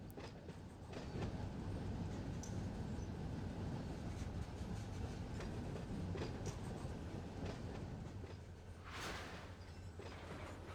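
In a train simulator game, a locomotive pushes back a cut of boxcars on the San Bernardino Sub near Los Angeles, with steady low rumble and rhythmic wheel clicks, plus a brief squeal near the end.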